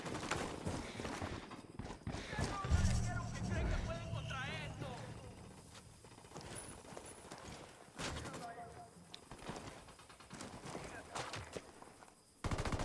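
Gunfire in the video game Ghost Recon Wildlands goes off in scattered shots and bursts during an outpost assault, mixed with game noise, while players talk over it throughout.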